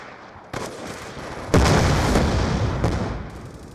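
A frag grenade detonates in Call of Duty: Black Ops 2 during a Search and Destroy match, a loud booming blast that follows an earlier burst and trails off into a rumbling decay.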